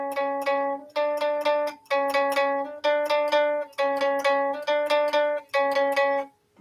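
Repeated guitar notes picked on an unbent string during pentatonic practice, each short phrase of clear plucked tones ringing near and loud, separated by brief gaps, with no voice.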